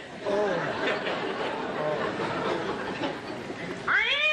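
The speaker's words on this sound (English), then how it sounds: "Oh, you stepped on the cat." A cat yowls and caterwauls after being stepped on during a 1965 television variety show, its wails rising over a busy studio background with audience murmur, ending in a sharp, loud rising meow.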